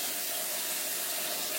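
A whisk rinsed under a running kitchen tap, water flowing in a steady, even hiss close by with no talking.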